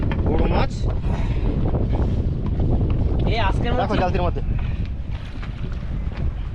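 Wind buffets a boat on the Matla river, blowing as a steady, gusty rush against the microphone while someone talks over it.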